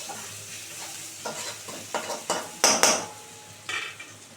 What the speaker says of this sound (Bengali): এবার এটা পেঁয়াজটা খুব সুন্দর করে ভাজা হবে।